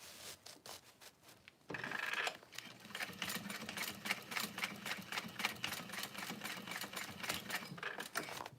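A sewing machine top stitches the folded-down lining of an Olive Vanity Bag, starting after a short quieter stretch and then running at a steady rapid chatter, close and continuous.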